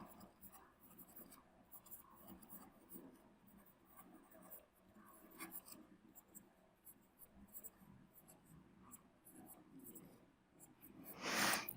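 Pen or pencil writing out a polynomial by hand on paper: steady scratchy strokes continuing for the whole stretch, close and quiet, growing briefly louder near the end.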